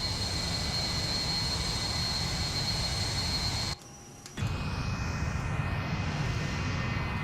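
Steady loud jet engine roar of a Tupolev Tu-16 Badger bomber in Flight Simulator X, continuous and close, with a brief drop in the middle before resuming.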